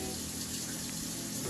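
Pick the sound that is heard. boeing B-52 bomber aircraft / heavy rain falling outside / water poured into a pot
water poured into a pot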